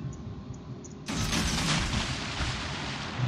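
Heavy naval ship gunfire in a ranked warship video game, a sudden loud boom that rolls into a sustained broadband rumble, following a quieter stretch with faint faraway pops.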